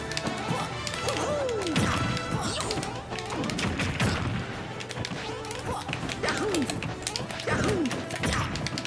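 Game combat from Super Smash Bros. Ultimate, with an up smash attack landing among a busy stream of hits, whacks and crashes, rising pitch sweeps and a steady music bed, all fairly loud and continuous.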